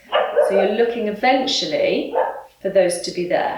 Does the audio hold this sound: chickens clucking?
no